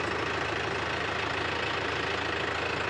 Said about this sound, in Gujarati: આપણે ટ્રેક્ટર લઈને આવી ગયા છે